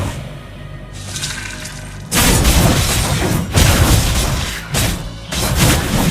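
A turret being destroyed in a video game match: loud, sustained booming and crashing bursts with rumbling debris-like noise, coming in several heavy waves after a quieter lead-in.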